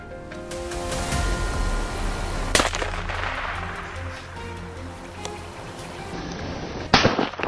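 A hunter's rifle shot rings out in a forest beside a cornfield during a wild boar hunt, a sharp loud crack near the middle with a second burst near the end, over a steady rumbling background.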